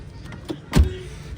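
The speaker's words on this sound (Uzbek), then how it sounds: "Eshikni yopilishiga ahamiyat berib ketasizlar" A car door shuts once with a single dull thump, close by, against a quiet background.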